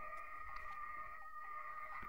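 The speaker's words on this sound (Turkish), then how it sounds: "Arkadan kuş sesi geliyor sözü." A bird calls repeatedly in the background, faint and distant, over a steady tonal hum during PES 2021 gameplay.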